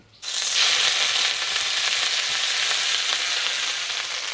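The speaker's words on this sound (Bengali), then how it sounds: "কড়াই দেবো তেল, নিম পাতা দিয়ে দেবো।" A sudden loud burst of sizzling as neem leaves hit hot oil, then a dense, even hiss of frying that continues throughout, close and bright.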